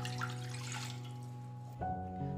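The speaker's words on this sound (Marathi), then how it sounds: "त्यासाठी मी एक कढई घेतलेली आहे, त्यामध्ये आपण घालून घेऊया पाणी" Water pouring into a kadai to cook biryani rice, a soft continuous splash and trickle under a steady low hum, shifting in tone near the end.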